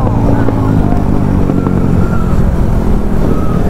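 Kawasaki Z900 motorcycle racing a Duke 250 on the road, its engine a steady, loud, close drone that holds through the whole stretch, with a voice partly audible over it.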